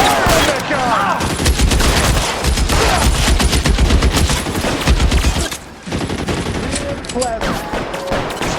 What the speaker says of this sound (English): Somebody fire the gun!